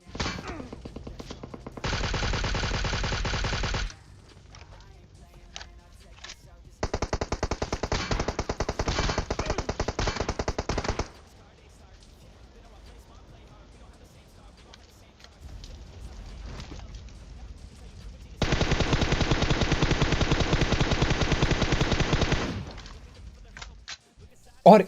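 Automatic gunfire in the PUBG Mobile game rattles in three long, rapid bursts separated by quieter gaps, loud and close, with the last burst the strongest.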